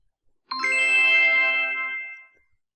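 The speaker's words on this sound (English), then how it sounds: "And also we are getting notified from our phone." A phone notification chime for a table reservation rings once, a clear bright tone that sustains and fades over about two seconds against silence.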